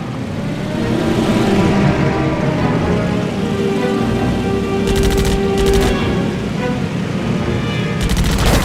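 Aircraft machine guns rattle in the Heroes over Europe flight combat game, with steady loud engine drone throughout and several short bursts of fire near the five-, six- and eight-second marks.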